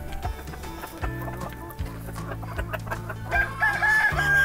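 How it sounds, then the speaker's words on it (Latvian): Silkie chickens at a small farm clucking and murmuring close by, a busy overlapping run of low clucks with a higher call near the end, with no voices. "Zīda vistiņas."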